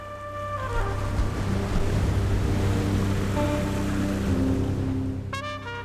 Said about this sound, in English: you can see here how rough the sea was that day